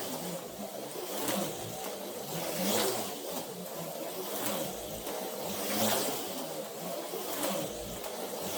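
Autoworld Datsun 510 X-Traction HO slot car running on its track, a thin buzzing motor whine that swells and fades in repeated waves as the car circles past.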